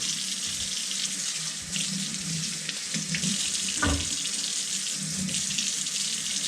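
Tap water runs steadily into a kitchen sink while a clogged drain is rinsed out after unclogging, a continuous close hiss with a brief splashing burst near the middle and no talking.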